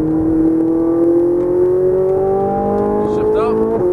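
A Ferrari 458 Italia accelerates hard on a race track in Vegas, its engine note climbing steadily and loudly from inside the car, with a voice talking over it.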